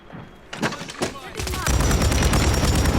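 Rapid gunfire from a gun in Call of Duty Warzone, close and loud bursts of shots in quick succession amid game noise, with players talking excitedly over it.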